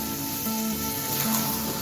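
Chicken with fried new potatoes sizzling steadily in a pan as they cook down together, a continuous close frying hiss with no talking.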